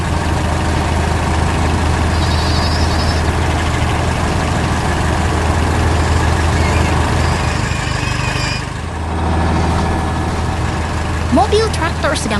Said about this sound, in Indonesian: Mobil traktor sedang bekerja keras